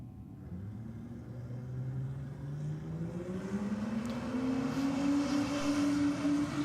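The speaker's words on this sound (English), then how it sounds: "This is a much better pass out of the Commodore." A Commodore on slicks or radials making a drag racing pass: a fairly distant engine whose pitch climbs steadily as the car accelerates down the strip, with a low rumble beneath it.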